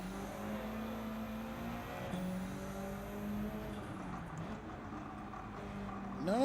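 Race car engine droning steadily in Gran Turismo 7 on the Nordschleife during a Manufacturers Cup race, the car struggling to brake, with a continuous mid-pitched tone that dips and shifts through gear changes, ending in a brief rising whine.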